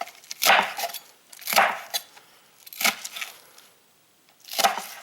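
A knife slices onion into small pieces on a cutting board for pineapple pico de gallo, four separate crisp chopping strokes spaced about a second apart, close and fairly quiet, with no talking.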